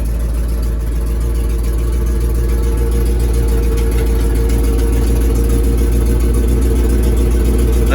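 A 1963 International Loadstar 1800 truck engine idles steadily while building air pressure, a loud, close, constant low rumble that holds even with no break for the whole stretch.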